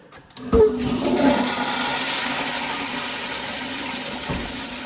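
A toilet flushed during a plumbing check: a sudden rushing surge of water that settles into a steady, loud draining and refilling hiss, close by.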